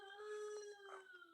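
Several dogs howl together in a sustained, wavering chorus, heard fairly faintly at a distance with no talking.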